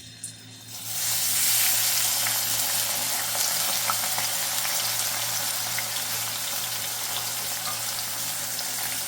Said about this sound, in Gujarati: હવે એમાં નાખી દઈશું ડુંગળી.